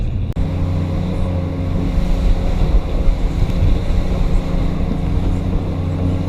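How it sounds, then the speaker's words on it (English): Strong wind buffets the microphone steadily as a boat drones across rough, choppy open sea toward Bimini in the Bahamas, a constant loud rumble with no talking. "And it's very windy."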